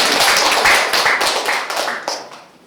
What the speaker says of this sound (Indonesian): Aplaus dulu untuk anak kos.